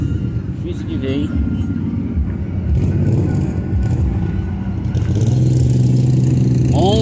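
A lowered Chevrolet Monza drives past on a street during a cruise of low, tuned cars, its engine rising and fading under excited nearby talk.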